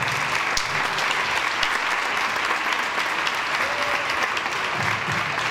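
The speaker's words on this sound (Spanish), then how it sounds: "quiero un aplauso para todos estos compañeros míos del cartel" An audience at a charity gala in Baza applauds the performers on the bill, sustained, dense clapping from a full hall that stays loud and even throughout, with a few scattered sharper claps standing out.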